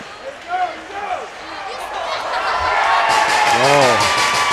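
A college ice hockey crowd in an arena gives a small cheer that builds toward the end, while a commentator talks over it.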